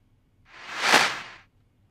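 A reversed clap swells up into the original clap snare of an 808 drum kit, blended into a single accent hit. It builds over about half a second to one sharp peak, then tails off, standing alone and fairly loud.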